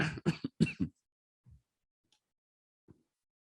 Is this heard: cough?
yes